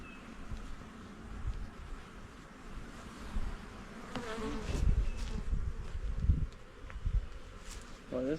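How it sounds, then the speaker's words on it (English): Honeybees buzz steadily and close by at an opened hive, a dense droning hum with occasional louder passes and soft rustling. "Get away from me, bees"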